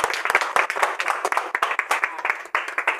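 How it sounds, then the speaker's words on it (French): Audience at a civic gathering of patriotic citizens in Cameroon clapping in rhythmic, closely spaced claps, loud and near, with some chatter mixed in. "Maintenant, on peut applaudir en tant qu'Agournais"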